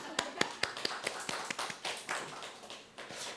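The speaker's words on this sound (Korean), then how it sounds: "네, 박수입니다." A church congregation claps in a quick, steady rhythm of sharp hand claps for about three seconds, moderately loud in a reverberant room, with no voices over it.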